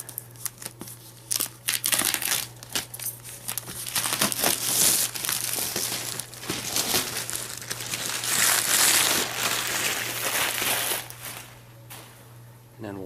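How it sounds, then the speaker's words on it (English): Plastic wrap sealing a Dyson AM09 fan box crinkles and crackles as a knife cuts it away, in irregular bursts of rustling and tearing with a steady low hum beneath and a voice talking over parts of it. "I'm going to go ahead and take a knife and just carefully get rid of this plastic layer here"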